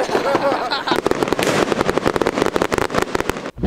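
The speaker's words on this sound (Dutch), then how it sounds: "Dit is vuurwerk." Fireworks going off outdoors on New Year's, a dense rapid crackle of bangs and pops that runs on continuously and loudly, with voices mixed in.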